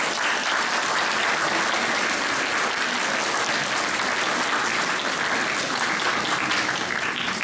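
Steady, loud applause from an audience at a Nativity play and Three Kings procession event, dense clapping sustained evenly without a break and no voices heard.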